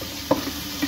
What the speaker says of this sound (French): Je laisse revenir un peu mon oignon.